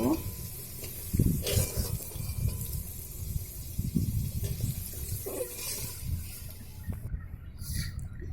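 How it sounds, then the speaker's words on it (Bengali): Dried red chilies crackle and sizzle in hot oil in a pan, a steady close frying hiss with a few sharper pops and stirring scrapes, under a voice talking intermittently. "লঙ্কাটা ফাটিয়ে দিয়েছি, শুকনো লঙ্কা ফাটিয়ে দিয়েছি"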